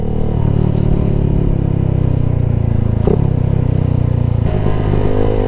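A Suzuki Gixxer SF250 motorcycle ridden steadily by a beginner on a roadside street, its engine droning loud and continuous with wind rush and a couple of brief clunks along the way.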